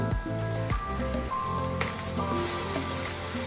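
Curry leaves and coriander crackle and sizzle in hot oil for an upma tempering. A bright, steady frying hiss runs throughout, with occasional pops and a faint utensil tone, heard close and without speech.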